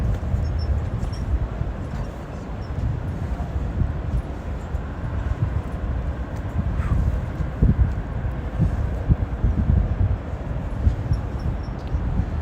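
Steady breeze blowing outdoors on a cold day at a street protest, a constant low rumbling wind noise buffeting the microphone throughout with no speech.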